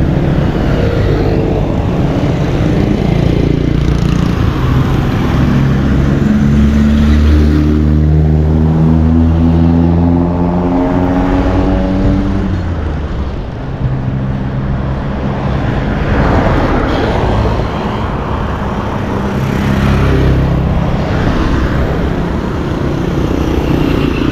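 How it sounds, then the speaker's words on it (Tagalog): Many cars pass on a road in Paniqui, Tarlac, a steady loud stream of engines and tyre roar with vehicles rising and fading by one after another, close to the roadside. "Biglang dumaming sasakyan."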